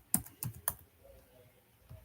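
A few crisp keystrokes on a computer keyboard while writing Python code, three quick taps followed by a pause and one more press, close and isolated without speech.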